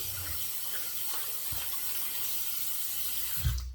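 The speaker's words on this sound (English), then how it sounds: "rinse off the hands" Tap water runs steadily as hands are rinsed after a wet shave, a continuous close hiss of flowing water with a few soft thumps and splashes near the end.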